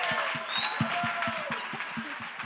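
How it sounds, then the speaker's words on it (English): Audience applauding a speaker at a panel discussion: brisk, fairly steady clapping from a room-sized crowd, heard for a couple of seconds. "Thank y'all for the applause"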